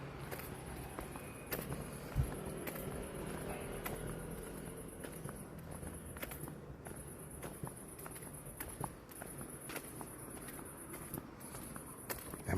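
Crickets chirp steadily at sunset, a faint outdoor chorus of high, even pulses running throughout, with occasional soft taps and footstep-like knocks nearby and no talking.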